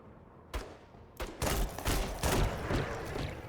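Gunfire in the turn-based strategy game Menace, a few sharp reports followed by a dense clattering volley of overlapping shots, fairly faint and without speech.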